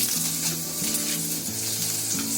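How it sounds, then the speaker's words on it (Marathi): Chopped garlic frying in a spoonful of hot oil in a wok makes a loud, close, continuous sizzle with a spatula scraping and stirring through it. "पहिली लसूण टाकते. लसूण चांगली जरा फ्राय करून घ्यायची."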